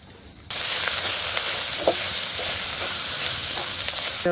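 Ground chili, coriander and Kashmiri red chili powders cook in a pan for pork curry as a splash of water goes in. A sudden loud, hissing sizzle bursts up and stays steady and close, with no talk.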